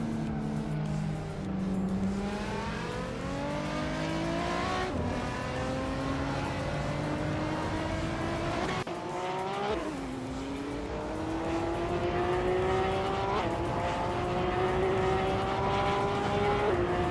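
Several race cars roar continuously in a racing video game, engines revving and shifting with rising and falling pitch sweeps as they battle closely, loud and sustained throughout with occasional gear changes.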